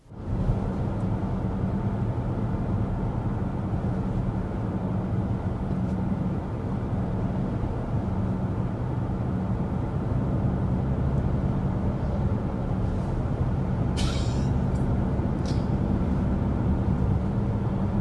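Steady low road and wind rumble inside a 2025 BMW X5 cruising at highway speed, a constant muted drone with a couple of faint brief ticks.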